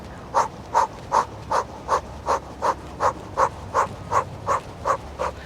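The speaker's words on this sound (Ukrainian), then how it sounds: "І починаємо дихати через круглий рот диханням вогню. Це активне дихання животом." Breath of fire: rapid, active belly breathing forced through a rounded mouth. About fourteen sharp, evenly spaced huffs come close and clear, roughly two or three each second.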